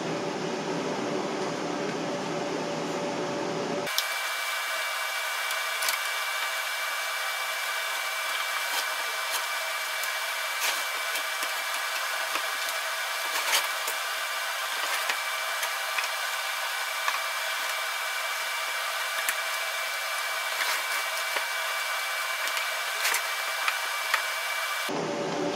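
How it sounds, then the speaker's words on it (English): A power cutting tool slices through HDPE plastic sheet for a dust collector cyclone, a steady loud whirring hiss that starts abruptly and runs continuously with small ticks and scrapes until it cuts off near the end. "I'm going to finish cutting this out"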